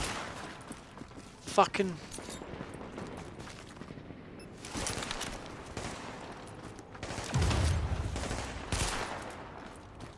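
Explosive-round gunfire in The Division's Dark Zone, bursts of shots crackling through the first two seconds and again around five and seven to nine seconds, mixed with game noise while a man swears.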